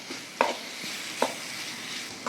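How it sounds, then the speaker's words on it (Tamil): Ginger garlic paste being stirred into a cooking pan for a prawn gravy: soft sizzling underneath, with three or four sharp spoon scrapes spaced about a second apart and no talking. "சேர்த்துட்டு நல்லா மிக்ஸ் பண்ணிக்கலாம்"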